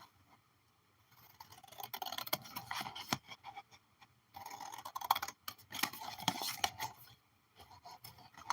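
Scissors snip through paper while pieces are cut for a junk journal, giving close, crisp rhythmic cuts and rustling in two long bursts with a brief pause between them and no talk.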